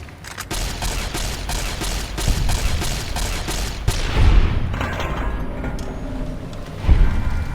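Gunfire from a weapon in Fallout New Vegas, a rapid string of sharp, loud shots for the first few seconds, then heavy booms and scattered mechanical clatter.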